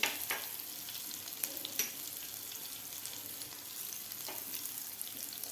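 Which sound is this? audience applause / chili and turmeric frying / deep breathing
chili and turmeric frying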